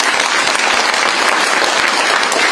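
Loud, dense audience applause at a political party event, continuous and close, filling the room without pause.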